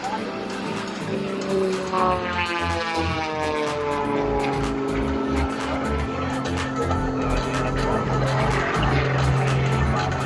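A BO-105 helicopter performing at an air show, its rotor and engine drone loud and steady throughout with pitch sweeping as it maneuvers, while crowd noise and a commentator's voice carry over it.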